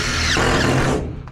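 A cordless power drill whirs loudly and up close for about a second, then cuts off, during installation of an HVAC supply plenum.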